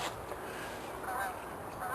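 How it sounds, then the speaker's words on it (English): A few faint geese honk in the distance over a steady outdoor background hiss. "Here come some geese."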